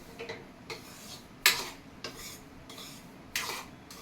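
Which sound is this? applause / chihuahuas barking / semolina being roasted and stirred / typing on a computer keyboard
semolina being roasted and stirred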